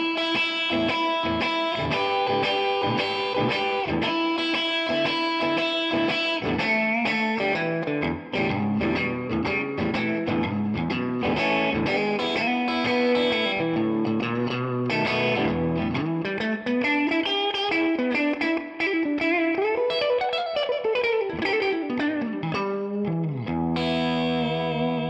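Distorted electric guitar on a Strandberg, middle pickup position, played continuously with chords and melodic runs, thick and saturated with effects, loud and close with no talking.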